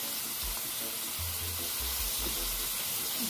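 Eggplant and salt fish frying in a pot with black pepper, a steady close sizzle with occasional low stirring thumps and clinks, no voices.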